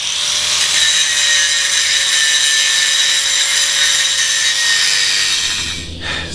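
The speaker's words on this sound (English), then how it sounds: "So, step 1, just heaps of grinding along this chine." An angle grinder screams steadily against steel, grinding weld off the chine of a steel trawler hull, loud and close and unbroken for several seconds before cutting off near the end.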